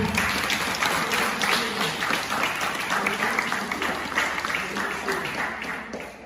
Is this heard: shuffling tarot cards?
no